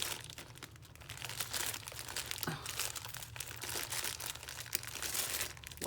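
Rummaging through a junk journal supply box, with dense crinkling and crumpling of paper and small items shifted by hand, steady and close throughout, with occasional sharper rustles.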